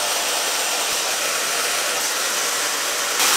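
A hair dryer fitted with a diffuser runs on low heat and low fan speed, a steady close whooshing blow with constant airflow throughout and a slight shift right at the end, with no talk over it.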